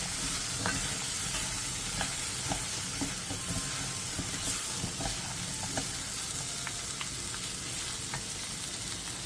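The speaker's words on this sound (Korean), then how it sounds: "고기의 겉면이 반 정도 익으면 감자와 양파를 넣고 2분 정도 더 볶아주세요" Pork, potato and onion stir-fry in a pot with a steady, close sizzle, broken by scattered scraping and clicking stirs throughout, with no talking.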